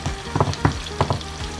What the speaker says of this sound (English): We are still frying our onions until we see the brown color on our onions.